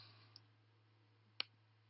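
A computer mouse clicks twice in a quiet room with a low electrical hum, a soft tap first and then a sharper, louder click about a second later.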